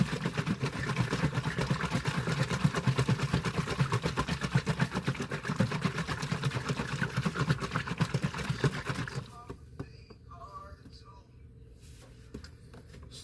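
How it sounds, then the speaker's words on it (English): Vacuum chamber pump degassing mixed resin for a handmade fishing lure, a steady loud rattling drone for about nine seconds that then drops away to quieter workshop sounds. "we do have a vacuum chamber"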